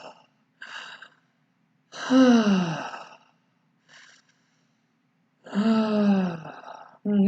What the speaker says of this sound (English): Put yourself in a receptive state with 3 deep breaths